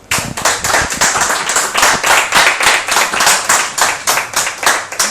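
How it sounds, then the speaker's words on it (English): A last round of applause from a theatre audience at an evening celebrating a British writer: loud, close, steady rhythmic clapping that sounds nearly in unison, with no talk over it. "a last round of applause for all 3"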